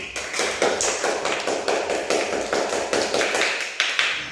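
Classroom applause for a student during a fractions maths lesson, a dense burst of many hands clapping steadily for about four seconds, close and fairly loud with no talk over it.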